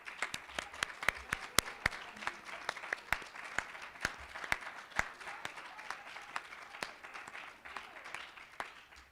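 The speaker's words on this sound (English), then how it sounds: "I just want to give one more round of applause to Paige really quick for putting this on." Audience applause at a university fraternity and sorority life awards ceremony, a dense, steady patter of many hands clapping for the full stretch with no talk over it.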